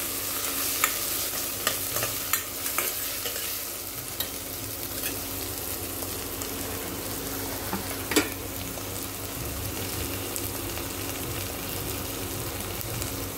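Tomatoes with spices frying in a tempered pan, a loud continuous sizzle with scattered sharp crackles and pops and occasional stirring scrapes, no talking.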